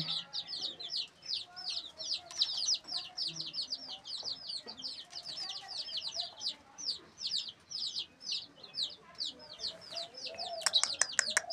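A crowd of chicken chicks on a small poultry farm peeps continuously nearby, with rapid, high-pitched chirps overlapping in a busy, unbroken chatter.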